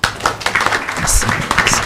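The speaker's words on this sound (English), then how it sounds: "A round of applause." Scattered, uneven clapping from the audience at an AI town hall in Kenya, with sharp individual claps over a short burst and a voice speaking alongside.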